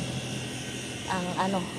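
A household air conditioner's outdoor condenser unit hums steadily at close range in a home garden setting, a continuous mechanical drone, with a person talking briefly over it toward the end.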